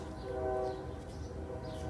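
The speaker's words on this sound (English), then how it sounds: "And there's a train." A train passes at a distance, its horn sounding a sustained tonal blast early on over a steady low rumble of rail traffic, with no talking.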